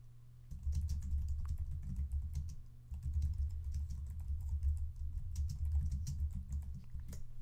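Someone types on a computer keyboard, a close run of quick, uneven key clicks that pauses briefly near the three-second mark, then resumes over a low steady hum, no voices.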